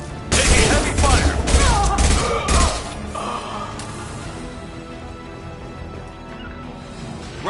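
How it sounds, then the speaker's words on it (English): Heavy gunfire in a Mass Effect 2 firefight, loud bursts of shots and thuds in the first three seconds, then fading into quieter mechanical ambience and faint background sounds. "Taking heavy fire!"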